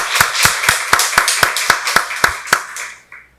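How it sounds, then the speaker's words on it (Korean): A church congregation at Sunday worship claps in unison, about eleven crisp, evenly spaced claps in a quick steady rhythm, loud and close, then stops. "박수로 하나님께 영광 돌리겠습니다"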